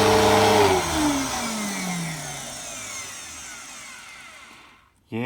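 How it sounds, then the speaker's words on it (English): After a repair, a vacuum cleaner's roller spins with a loud whirring motor whine that falls in pitch as it winds down over several seconds. It cuts out near the end, and a short burst of another sound follows. "Roller spins."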